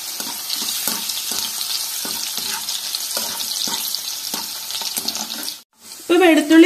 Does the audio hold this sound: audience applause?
no